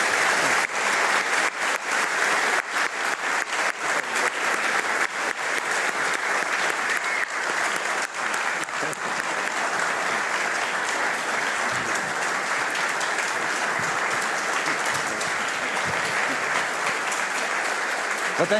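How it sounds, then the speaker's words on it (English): Audience at an astronaut and human spaceflight panel giving the panelists a round of applause: loud, dense clapping that runs continuously, with sharp individual claps audible near the front and a slight fade toward the end. "let's give our distinguished panelists one more round of applause, please"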